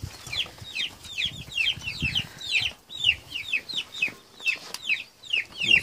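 Young Ross 308 broiler chickens cluck and peep close by in a rapid, repetitive series of short chirping calls, with faint rustling and movement underneath.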